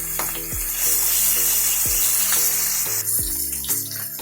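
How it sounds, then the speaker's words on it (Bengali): Pieces of catla fish fry on both sides in hot oil in a pan, making a dense, continuous sizzle and spatter up close, with a few dull low thumps as the pieces shift. "তাই ভালো করে 2 পিঠটা ভেজে নেব।"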